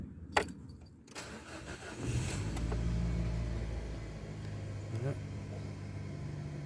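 A Nissan Tiida hatchback with 182,000 on the clock cranks briefly and catches, then settles into a steady low idle, heard close by and fairly quiet after a couple of small clicks.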